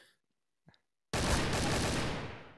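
Gunfire in the game Trouble in Terrorist Town: after a near-silent stretch with a faint click, a loud, dense barrage bursts in and continues steadily to the end.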